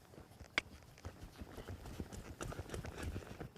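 A horse trots in a rhythmic clip-clop of hooves during riding practice, faint and even. Soft ambient noise sits underneath, and a voice speaks briefly.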